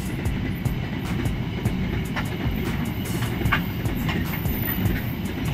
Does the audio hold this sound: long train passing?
yes